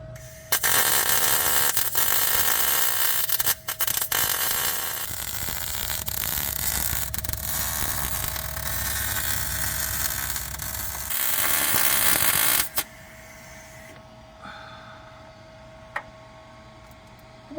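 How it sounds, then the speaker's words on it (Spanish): MIG welding on a Ford OBS truck during a Coyote engine swap, a loud, steady crackling hiss running nearly continuously with brief pauses, then stopping and leaving quieter shop ambience near the end. "Soldadura MIG. Voy a soldar todo lo que pueda."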